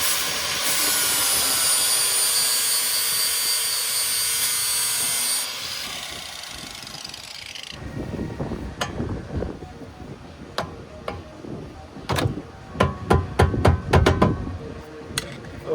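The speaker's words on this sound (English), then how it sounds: "I think I can just grind this off enough to get enough clearance." A power grinder whines loudly and steadily while grinding off a metal lip for wheel clearance on a 1982 Honda Civic Wagon, then cuts out, leaving irregular clanks and knocks of metal work up close.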